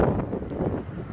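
Wind buffets the microphone beside a huge reservoir, a steady close rumbling roar with no other sound.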